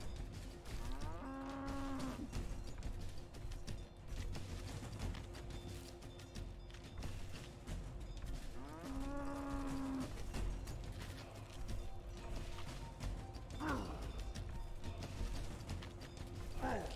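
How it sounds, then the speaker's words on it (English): Cows moo in a video game, two long drawn-out calls a few seconds apart over a steady background of game ambience and mechanical clatter. "Let me get the cows."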